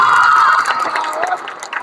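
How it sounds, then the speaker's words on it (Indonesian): Cheering and shouting from an audience of students at a motivational session, loud and lively throughout the short burst with some whoops, while a voice speaks faintly beneath. "Boleh tepuk tangan buat kakak."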